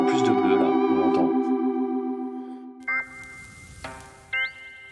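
Modular synthesizer tones with bright, bell-like harmonics, a sustained chord fading out, followed by a few short pinging notes as the filter shapes the sound.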